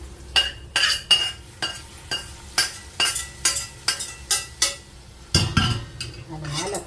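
A spoon stirs and scrapes in a bowl of soaked flattened rice after a fried tempering with curry leaves is poured on, giving a steady series of clinking, scraping strokes about twice a second, with a brief sizzle near the end.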